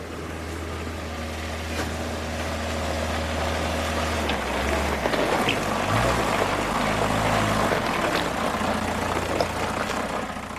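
A diesel engine taken from a Volkswagen Golf and fitted in a homemade contraption runs steadily for the whole stretch, a loud continuous rumble with a slight shift in pitch midway.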